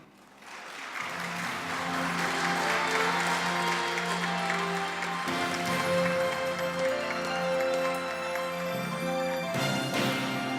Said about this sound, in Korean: 총장님께 다시 한번 힘찬 박수 부탁드리겠습니다